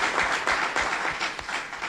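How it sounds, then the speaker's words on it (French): Audience applause at a press conference in Niamey, Niger: a steady wash of many hands clapping, fairly close and even, with a few sharper claps standing out, continuing without a pause. "je vais vous demander de les applaudir chaleureusement quand je les aurai cités"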